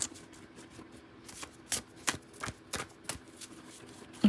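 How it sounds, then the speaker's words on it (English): Tarot cards being shuffled by hand in a quiet room, a series of crisp riffling bursts at an uneven rhythm, fairly close and moderately loud, with soft handling noise between them. "Last shuffle."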